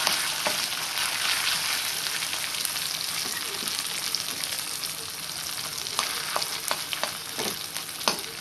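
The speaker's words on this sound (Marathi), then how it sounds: "मी बटाटे घालून घेऊन भाजी चांगली परतून घेते" Potatoes stir-fried in a pan with ginger-garlic paste, asafoetida and turmeric as a bread pakoda filling give a steady, close sizzle throughout, with occasional light clicks of a spoon stirring.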